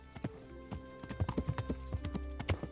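A horse's hooves clip-clop at a steady trot through a town in a video game, sharp and close with a quick, even rhythm.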